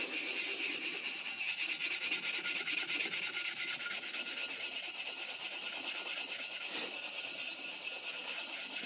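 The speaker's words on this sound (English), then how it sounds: "And then just take some steel wool. And just gently rub it." Steel wool lubricated with WD-40 rubbed gently over a car hub cap, producing a continuous close scratchy rubbing that stays even and steady throughout.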